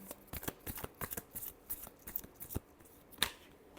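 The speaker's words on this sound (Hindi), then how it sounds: "Last shuffle" Tarot cards being shuffled by hand, a quick rhythmic run of crisp riffling snaps close to the microphone, ending with a sharper slap as the deck settles.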